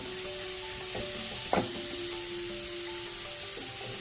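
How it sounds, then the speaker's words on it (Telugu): Pieces of bottle gourd fry in a pan for kaddu kheer with a steady, close hissing sizzle, plus a faint hum and one brief sharp clink or scrape midway, and no talking. "ఇప్పుడు సొరకాయలు వేసుకుందాము దీన్ని ఫ్రై చేసుకోవాలండి"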